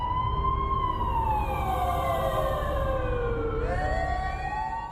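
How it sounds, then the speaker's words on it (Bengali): An ambulance siren wails continuously at moderate distance, its tone sweeping slowly down and then jumping back up over a steady background rumble of traffic. "অ্যাম্বুলেন্সের না?"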